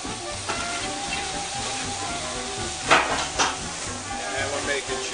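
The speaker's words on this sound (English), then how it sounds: "Now we mix everything back together." Beef, stock and chili ingredients get stirred in a hot pot, a steady sizzle and hiss under scraping spoon strokes, with two louder sloshing scrapes close by.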